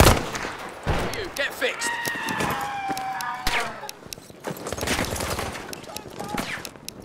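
Battlefield V gunfire crackles in rapid bursts and volleys, with sharp shots, a rising siren-like whine mid-battle and voices speaking over the fighting.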